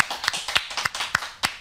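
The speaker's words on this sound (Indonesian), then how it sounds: "Nah, tepuk tangan untuk produk ini ya." A handful of sharp hand claps, roughly six in under two seconds, spaced a little unevenly and heard fairly close, with no talking over them, at a health product presentation.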